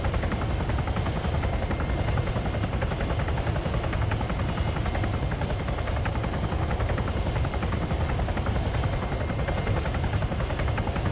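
A police helicopter in the video game ArmA 3 Altis Life drones with a steady, loud rotor thrum and dense engine noise that never lets up, no voices heard.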